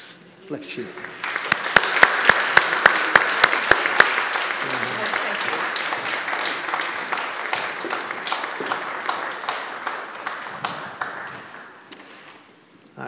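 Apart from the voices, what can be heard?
church congregation applauding new members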